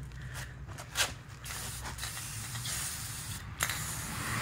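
A nearly empty spray paint can sprays black paint in a steady hiss, broken by a couple of brief louder spurts, with no one talking.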